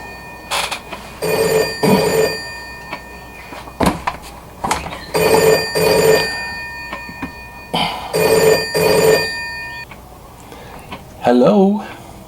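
An old-style telephone bell rings in repeated bursts, loud and close, with brief pauses between rings, and a voice speaks near the end.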